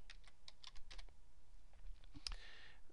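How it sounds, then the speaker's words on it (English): Computer keyboard typing during Excel work, a quick run of soft key clicks close and quiet, with a louder keystroke near the end and no talk. "I'm going to type Richard."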